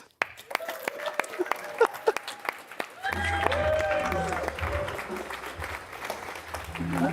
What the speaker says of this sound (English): Let's give a round of applause to Andy and Kat